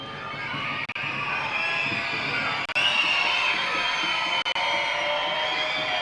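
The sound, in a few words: baseball fans screeching at New Britain ballpark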